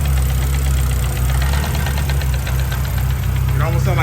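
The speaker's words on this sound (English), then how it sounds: "I don't like this engine knocking sound." A turbocharged Honda H22 engine idles with a steady, loud rumble and a persistent rapid knocking tick running through it, continuous and close throughout.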